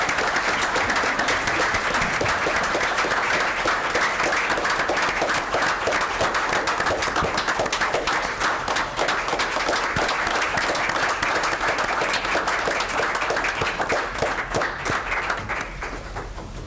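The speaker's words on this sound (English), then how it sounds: "Give them, again, another round of applause." Sustained audience applause at a township council meeting fills the room, dense and steady clapping from many hands that tapers slightly toward the end.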